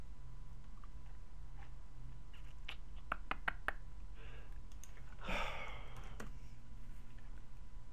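Computer mouse clicks in the Skyrim Creation Kit editor, a quick cluster of sharp, close clicks in the middle followed by a few more scattered ones over a quiet background hum.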